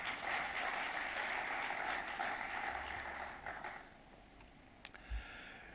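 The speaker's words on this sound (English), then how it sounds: "Huge round of applause, ladies and gentlemen" Audience applause at a felicitation ceremony for the Indian hockey teams, a broad steady wash of clapping that holds for about four seconds, then thins and fades with a few scattered claps near the end.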